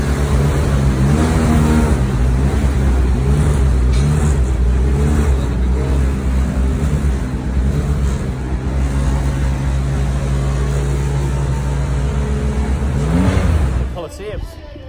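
A Titans RX rallycross car runs on a tarmac-and-sand track, its engine droning loud and continuous with shifting pitch sweeps, then cutting out abruptly near the end; a voice talks over it.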